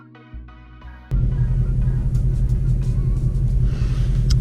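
A Shelby GT350 engine catches and settles into a deep, loud, steady rumble that continues alone after a brief quiet electronic tone.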